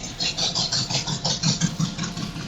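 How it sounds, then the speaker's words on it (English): A motorcycle engine revs in quick pulsing bursts, a fairly loud, close mid-pitched throb that rises and falls rhythmically over a couple of seconds. "Oh, that was a motorcycle."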